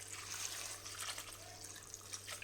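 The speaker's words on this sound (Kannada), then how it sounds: "ನೀರು ಹಾಕಿ" Water runs from a tap or is poured onto cut bitter gourd coated with salt and turmeric, a soft continuous trickle and splash, close and fairly quiet.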